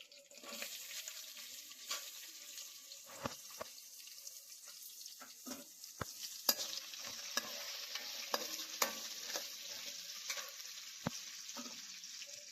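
Onions and green chillies frying in a pan with fenugreek and vadagam for a fish curry, a steady sizzle with repeated sharp scrapes and taps of a stirring spoon, close and moderately loud, no voices.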